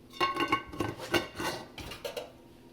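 A spoon scrapes and clinks against a dish while mixing food, a few light, irregular metallic taps and scrapes heard up close and quiet.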